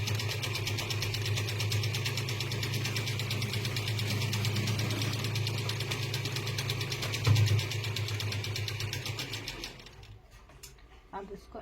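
Electric sewing machine running steadily while stitching the belt of a blouse, a continuous close whirring drone with a fine rapid needle rhythm that stops near the end, leaving brief quieter handling noises.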